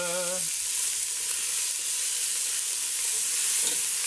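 Pork pieces sear in a hot pan for chile verde, giving a loud, steady, close sizzle that runs unbroken after a brief voice at the start.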